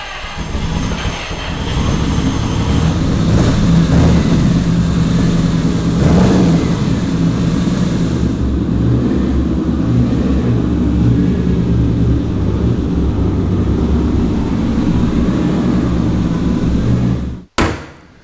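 A Ferrari F80 engine starts and runs steadily for most of the stretch, a loud, sustained close-up drone with a rise in the middle before cutting off abruptly near the end.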